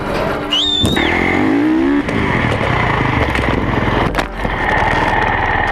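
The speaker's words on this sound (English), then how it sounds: "let's get all prepped up to backflip this full-size dirt bike and bring it to dirt" A full-size dirt bike engine revs loudly and close, a sustained raspy roar that dips briefly and then climbs again, with a short high squeal near the start.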